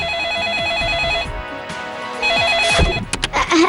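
A telephone rings in a steady warbling electronic pattern, two bursts separated by a short gap, fairly loud indoors with some clattering underneath.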